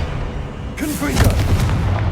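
A Confringo spell blast goes off in Hogwarts Legacy, a sudden loud burst about a third of the way in that leaves a rumbling roar and crackling beneath it, with game sound filling the rest.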